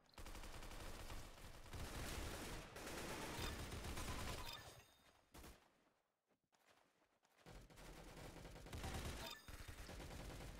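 Rapid gunfire in the Roblox shooter Arsenal crackles in dense bursts, dropping out briefly to near quiet partway through before the shots return just as thick and loud.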